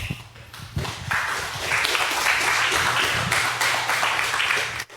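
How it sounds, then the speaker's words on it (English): An audience at a hacker conference talk applauds the incoming speaker, starting with a few separate claps that quickly build into steady, full clapping from a large room before it cuts off. "Give him a round of applause."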